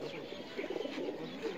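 A champion flying pigeon on a rooftop in Dera Awanan, Sheikhupura, coos in short soft bursts against a steady background hum, moderately close.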